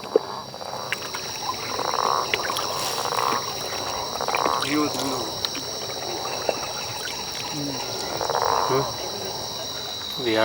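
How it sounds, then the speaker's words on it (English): Monkey tree frogs calling in the Amazon rainforest, a steady chorus of repeated croaks and chirps over constant insect buzz, with voices talking faintly at times. "This sound is of monkey tree frogs."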